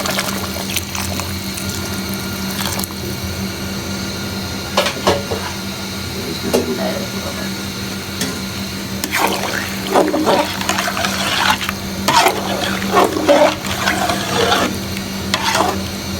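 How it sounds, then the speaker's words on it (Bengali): Heated water streams into a pot of simmering beef and potato curry, a steady liquid rush with stirring and splashing that builds and grows busier toward the end, steady kitchen hum beneath. "তরকারির মধ্যে ঝোল দিয়ে দিচ্ছি"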